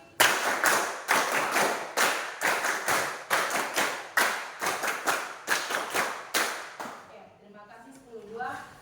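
A class of students claps in unison, three rounds of five quick, crisp beats with short gaps between groups, loud and close; a voice starts talking once the clapping stops.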